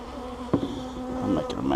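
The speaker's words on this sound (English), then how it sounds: "Let me shake the bees off of this." Honeybees buzz loudly and close by as they are shaken off a hive feeder, a dense droning hum with sharp bursts where the bees are jostled loose.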